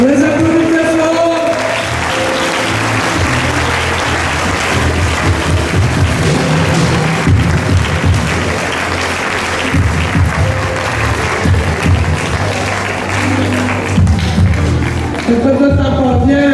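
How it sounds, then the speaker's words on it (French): Loud, sustained applause from a large audience at a religious conference, steady throughout with a few cheers and voices mixed into the dense clapping. "On les applaudit très fort."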